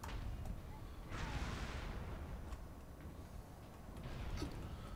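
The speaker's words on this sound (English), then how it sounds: "that's a shotgun for sure" Gunfire in Warhammer 40,000: Space Marine, with a loud burst of blasts in the middle of the clip and another near the end, over a steady rumble of battle noise.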